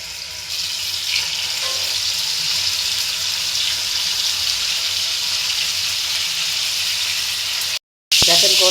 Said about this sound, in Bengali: আজ আমি মুরগির গোশ ভাজবো।